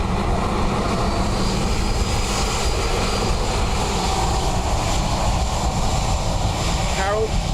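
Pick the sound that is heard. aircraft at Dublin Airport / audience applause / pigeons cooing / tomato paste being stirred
aircraft at Dublin Airport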